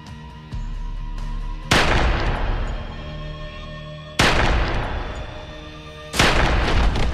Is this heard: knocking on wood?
no